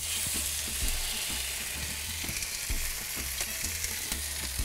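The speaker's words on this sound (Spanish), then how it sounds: "Una vez que tenemos el aceite caliente, vamos a incorporar la cinta de lomo para que se dore." Pork loin browning in hot oil in a frying pan gives a steady, close, even sizzle with a few faint clicks and scrapes of the pan. No one speaks.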